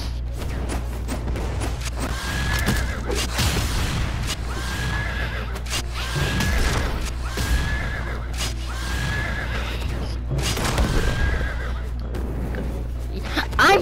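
The Sky Horse in the Brawlhalla fighting game neighs repeatedly, about six whinnies spaced a couple of seconds apart over game music, with thumps and swooshes of combat between them.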